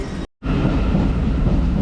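A London Underground train at Blackfriars station rumbles loudly and steadily in the platform area, its roar cut off by a brief silent gap before resuming.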